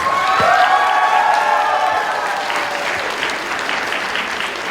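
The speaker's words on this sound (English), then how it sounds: "let's have one more round of applause for all of our contestants" An audience at a cosplay convention contest applauding loudly, dense clapping with a few cheers and whoops near the start, holding steady throughout.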